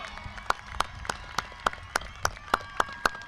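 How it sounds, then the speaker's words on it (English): Graduation audience applauding senior band and color guard members at an Edgewood ISD Memorial High School ceremony, with sharp, evenly spaced claps cutting through a steady crowd wash at a moderate distance. "Let's give them a round of applause."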